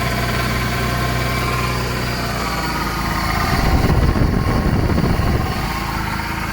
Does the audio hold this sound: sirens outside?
no